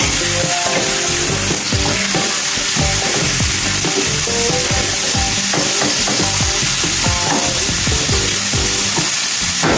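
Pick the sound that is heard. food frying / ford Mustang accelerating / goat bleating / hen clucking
food frying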